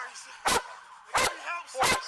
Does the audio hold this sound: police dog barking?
yes